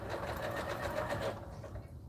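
Sewing machine stitches through a blanket at high speed, a fast continuous whirring hum with rapid needle pulses that eases off near the end, close and alone.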